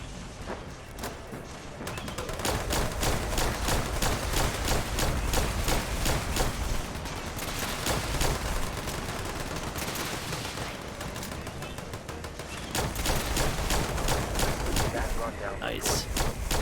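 Dense, continuous gunfire and booming explosions from a battle in the video game Fallout 76, rapid automatic bursts that keep going loud and close with barely a pause.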